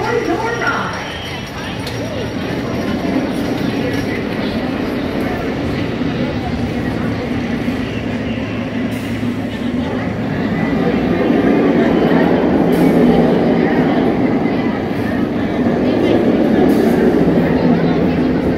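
The Great Bear roller coaster at Hersheypark, which reaches about 75 miles per hour, makes a loud, continuous rumble of cars on the track that swells louder partway through, with a voice talking over it.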